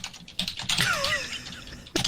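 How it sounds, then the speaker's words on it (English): Keys on a loud computer keyboard being typed in short bursts, with what sounds like a whistled or squeaky tone partway through, then a final clack. "You guys get to hear my loud keyboard again,"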